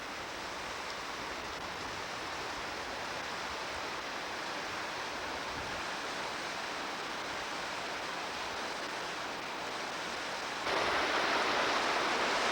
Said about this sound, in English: here we are at the waterfalls